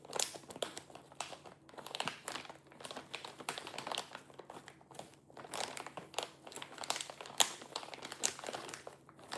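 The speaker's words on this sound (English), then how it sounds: "Shout out to the plastic bags that I bought today." Plastic shopping bags crinkle and rustle continuously in a kitchen where pizza dough is being made, a dense, busy crackling close by with no voices.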